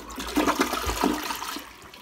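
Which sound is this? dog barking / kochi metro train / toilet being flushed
toilet being flushed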